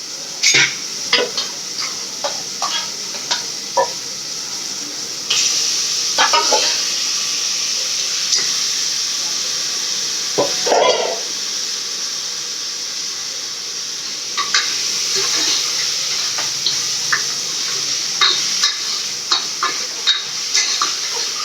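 Mutton pieces added to a pan of softened onion and tomato, sizzling and frying while a spoon scrapes and stirs in repeated clinks and rattles, with a steady hiss underneath.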